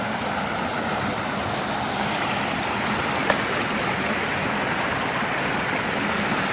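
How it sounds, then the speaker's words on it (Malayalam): Steady broadband rush of falling water, continuous and fairly loud with no voices, a single brief click near the middle. "ഇതാ എന്താ വെള്ളച്ചാട്ടം"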